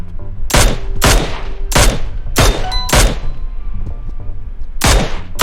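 M16 Mini gunfire in the mobile game PUBG Mobile during headshot practice: seven loud, sharp single shots spaced about half a second to a second apart, each with a short ringing tail.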